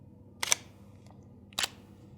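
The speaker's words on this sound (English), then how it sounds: "every time you take a photo, you only hear a single click" Two crisp shutter clicks from a Sony A7C mirrorless camera, about a second apart, close and isolated against near silence.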